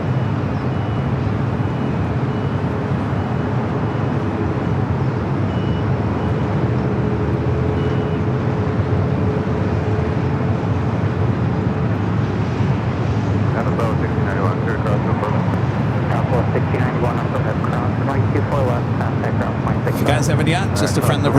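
A Delta Boeing 767-300ER arriving from Honolulu rumbles at Los Angeles International Airport, a loud steady broadband roar that builds with added texture toward the end, set against airport background noise.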